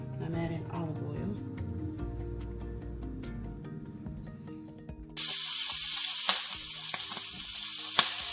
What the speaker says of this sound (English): Preheat your skillet. Then you're going to add oil. I'm adding olive oil.